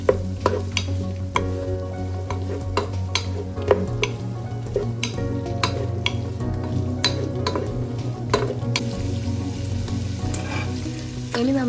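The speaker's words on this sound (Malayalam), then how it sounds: "ഇനി നമുക്ക് നല്ലപോലെ ഇളക്കി കൊടുക്കാം." Onion and capsicum fry in a pan for a chilli gobi dish, a steady close sizzle punctuated by repeated sharp scrapes and taps of a spatula as they are stirred.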